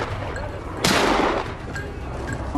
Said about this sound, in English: rifle raised, aim fired